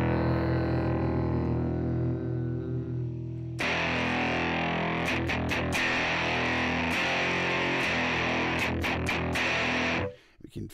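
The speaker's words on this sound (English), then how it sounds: "I'm going to bring in some drive now, take out the reverb, and let's flick over to the drive channel." An electric guitar plays through the drive channel of the Modern Deluxe two-channel AUv3 amp simulator app on iOS. A held clean-toned chord gives way to loud, saturated distorted chords and chugging hits, which stop abruptly near the end.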